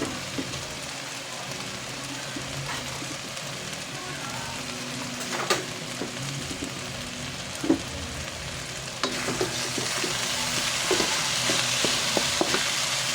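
Ground pork giniling with black pepper sizzles and fries in a pan, with steady hiss and scattered scraping clinks from stirring that grow a little louder toward the end, with no talk.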